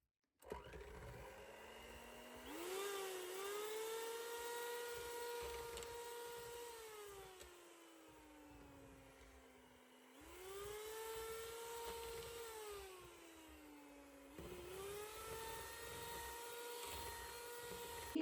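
Electric hand mixer whipping cream for a vanilla mango cake in a home kitchen, a steady loud motor whine that dips and rises in pitch as the beaters meet the thickening cream, running continuously with brief slowdowns and no talk.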